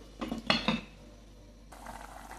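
A metal lid clatters onto a pot of mint chicken, a few quick clinks and knocks up close, followed by quiet background hiss.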